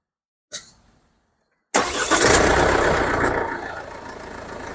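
A Mercedes-Benz E250 car gives a short click, then a pause, then its engine cranks and fires loudly before settling into a smooth, steady idle, heard close with no talking.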